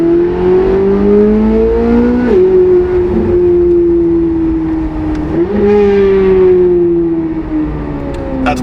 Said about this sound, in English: roll down the window here a little bit so you guys can hear why the flat plane crank is so cool.